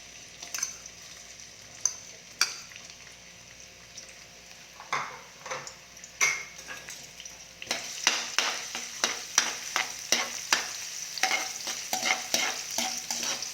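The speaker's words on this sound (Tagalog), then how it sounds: "Yan po, igigisa na po natin yung kare-kare natin. Unahin po natin yung bawang." Garlic sautéing in a pan as the base for kare-kare, a steady oil sizzle with repeated stirring scrapes and clinks, growing louder and busier partway through, no talk.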